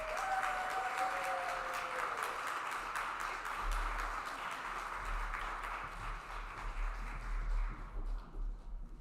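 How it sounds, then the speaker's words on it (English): Audience applause at an evening Disability Mentoring Day kickoff reception, a broad steady wash of clapping that carries on for most of the stretch before thinning out near the end, with no talk over it. "Another big round of applause."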